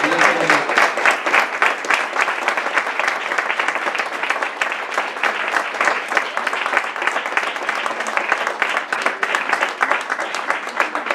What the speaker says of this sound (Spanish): Una ovación muy sonora.